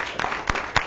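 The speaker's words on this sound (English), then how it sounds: "give her a round of applause" Short applause at a school board meeting for a student athlete, a sparse scatter of claps over a soft room murmur, lasting under a second.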